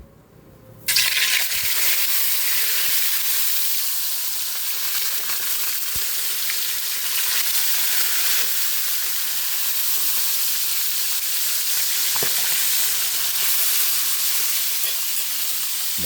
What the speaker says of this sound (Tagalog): Piprito na po tayo ng ating isda.